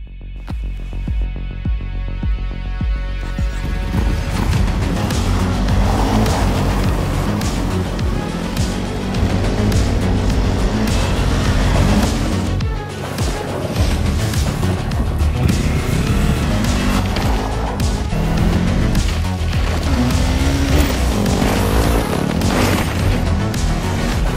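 A Kawasaki KLE 500 motorcycle engine runs steadily throughout, starting quiet and building into a loud, continuous rumble with throttle swells and road noise, as if being ridden, with no talking.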